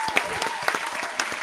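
Bursts of audience applause at a livestream birthday show, uneven clapping in short waves that swell and fade, with a few voices underneath.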